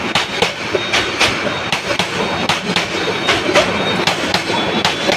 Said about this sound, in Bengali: এই যে একটা ট্রেন আসছে